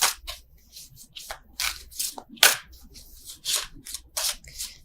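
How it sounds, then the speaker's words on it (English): Tarot cards are shuffled close up in quick, rhythmic bursts of riffling and rubbing, a dozen or so crisp swishes with brief gaps, with no talking. "I don't know why I'm still shuffling these."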